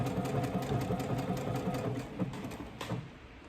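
A sewing machine stitching a raglan shirt runs in a steady, fast mechanical chatter, close and continuous, with a slight slowing near the end.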